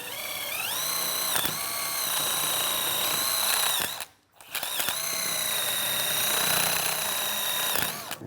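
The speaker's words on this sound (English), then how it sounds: "And then take a wire brush." A wire brush works over the brake caliper bracket of a 2011-2019 Ford Explorer during a front brake job, heard as a steady motorized whine that stops briefly midway, then resumes just as loud.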